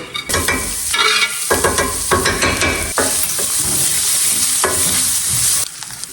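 Onion and garlic frying in oil in a pan, loud and close. Bursts of scraping stirring break up the continuous sizzle throughout, and nobody speaks.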